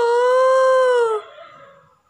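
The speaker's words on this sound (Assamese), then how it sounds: "কুকুৰৰ মাত শুনিছেনে আমাৰ ইয়াত ইমান চিঞৰ বাখ কুকুৰৰ মাত" A dog howls at night near a home, one loud, close, sustained howl with a steady pitch that sags slightly at the end before breaking off into a fading, echoing tail. No barking or talking is heard.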